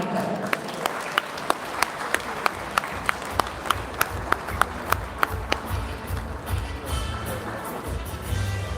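Audience at a Goa tourism stakeholders meeting applauding a speaker's introduction: sustained hand clapping for several seconds, with sharp regular thumps punctuating the start and the applause fading into room noise.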